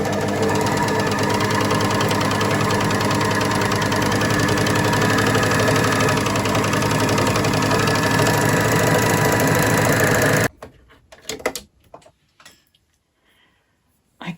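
A three-thread overlocker sewing machine stitching fabric runs loud and steady with a fast mechanical whir for about ten seconds, then stops abruptly, leaving a few faint handling clicks.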